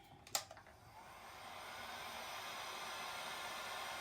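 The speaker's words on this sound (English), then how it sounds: "always keep the heat gun or the hairdryer next to the ink" A hairdryer blows steadily over alcohol ink, its airy hiss rising after a few soft clicks and knocks at the start and then holding at an even, moderate level to the end.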